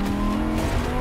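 Audi R8 drifting and braking, a loud, close, sustained tire squeal layered over engine sound for about a second.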